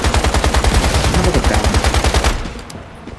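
Rapid automatic gunfire from a light gun in the survival shooter Once Human, loud and close with a steady rhythm of shots lasting about two seconds, then cutting off into a quiet tail with a faint voice.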